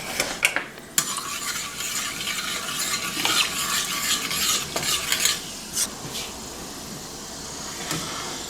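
Achiote oil heats in a pot, giving a soft continuous sizzle with scraping stirs and a few clinks of a utensil against the metal, and quiet talk nearby.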